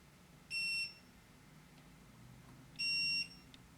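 Two long electronic beeps from a keypad deadbolt in programming mode, each about a third of a second, loud and clear over a faint room hum with a pause of about two seconds between them.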